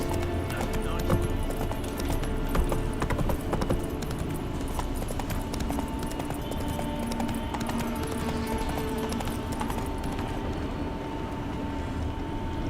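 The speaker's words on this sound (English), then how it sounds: "Run, Roach." Horse galloping in The Witcher 3 video game, a steady clip-clop of hooves running continuously under dense game ambience, with a brief whinny and faint voices in the background.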